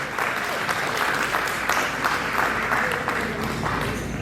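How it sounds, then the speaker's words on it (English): An audience at a July celebration of America's 250th applauds steadily throughout, a dense, sustained clapping from a sizeable crowd with no speech over it. "Please give a round of applause."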